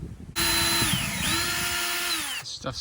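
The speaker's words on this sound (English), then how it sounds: "This stuff drills so easily. It's awesome." A power drill bores through bronze while a self-tailing winch is fitted on a sailboat: a steady, loud whining drone of about two seconds that starts abruptly, then cuts off into quieter handling noise.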